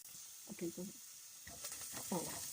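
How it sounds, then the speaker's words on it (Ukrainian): Onion frying in a pot for a tomato soup, a steady soft sizzle running throughout, partly masked by a voice talking over it in two stretches. "Нам цибуля трошечки присмажилася"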